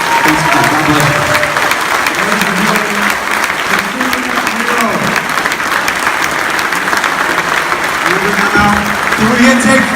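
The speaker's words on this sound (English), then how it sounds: "big round of applause" Sustained, loud audience applause and cheering for a Benghazi war veteran at Mohegan Sun, a dense crowd clapping steadily through the whole stretch with some voices mixed in.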